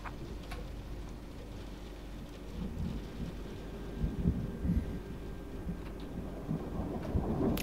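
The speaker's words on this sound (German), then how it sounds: "Also es ist ordentlich gewitterig, wir hören es." A heavy thunderstorm in Train Sim World 4, heard from a DB class 146.5 locomotive cab: steady rain patters over a deep rolling rumble of thunder that swells and fades, with faint ticking in the background.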